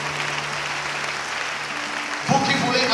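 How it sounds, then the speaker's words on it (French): A church congregation breaks into applause and acclamation for the Lord during a French-language service in Côte d'Ivoire, a burst of clapping near the end rising over a voice speaking in the hall. "On acclame le Seigneur pour leur vie."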